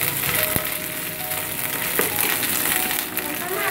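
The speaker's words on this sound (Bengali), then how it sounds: "পেঁয়াজটা ভাজা হয়ে গেছে, এর মধ্যে দিয়ে দিচ্ছি" Garlic paste and browned onions frying in a pan for a Bengali spiced fish curry, a steady broad sizzle with occasional stirring clinks, close and continuous.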